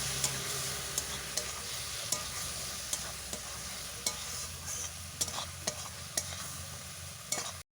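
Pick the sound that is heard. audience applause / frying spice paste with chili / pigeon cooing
frying spice paste with chili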